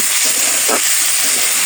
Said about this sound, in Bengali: এই একইভাবে হলুদের গুঁড়া, মরিচ, শুকনো লঙ্কার গুঁড়া, কাঁচা লঙ্কা, লবণ দিয়ে, একটু জিরার গুঁড়া দিয়ে, জিরার গুঁড়া, ধনিয়ার গুঁড়া দিয়ে কষিয়ে নিচ্ছি।